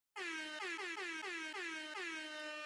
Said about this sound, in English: I love that air horn. I needed an air horn.